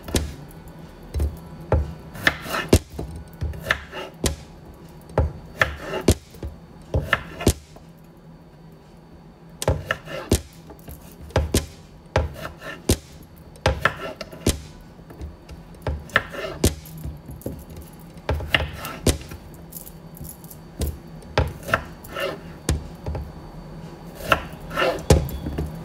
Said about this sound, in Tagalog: Iwain natin ng malalaki lang. Malalaki ang hiwa. Cubes.